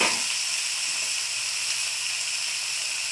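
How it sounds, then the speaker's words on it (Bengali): Papaya and potato bhaji dropped into hot oil on a home kitchen stove gives a strong, steady hiss that starts sharply and then holds level with no break, close and alone with no talk. "এই তো পেঁয়াজ হয়ে গেছে, এবার ভাজিগুলো ছেড়ে দিল।"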